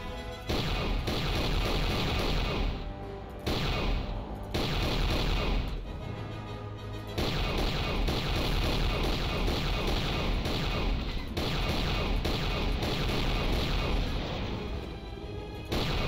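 Turret gunfire from the Star Wars: Knights of the Old Republic II: The Sith Lords turret minigame, a dense, continuous barrage of booming shots with brief pauses, loud throughout and mixed with game effects.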